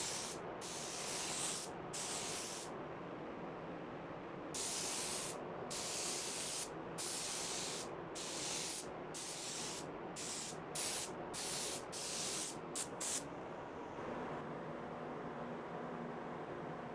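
Wet sanding a matte lacquer guitar finish with 2000 grit sandpaper, heard as a steady hiss of close, bright back-and-forth strokes that run in bursts with short pauses between passes.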